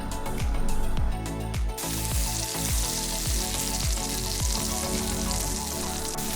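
Hong Kong style Yangzhou fried rice with shrimp and green onions sizzles loudly in a hot wok, steady frying under a regular rhythm of spatula scrapes and tosses, close and continuous.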